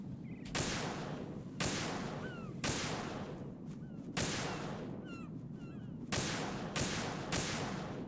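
Gunfire in Metal Gear Solid 2 aimed at a flag, loud sharp shots repeating every second or so, each decaying into a long echoing tail, with faint bird-like chirps between blasts.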